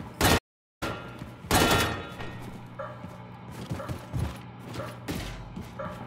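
Loud, close bursts of gunfire at a gun range in Wolfenstein II, with heavy repeated shots, brief dropouts and mechanical clatter between volleys.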